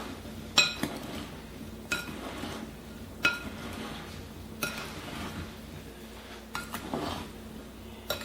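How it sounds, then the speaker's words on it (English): A spoon stirs cobbler batter in a bowl, clinking sharply against the side at a slow, regular pace about once every second or so, close up and without talk. "I'm going to stir this together"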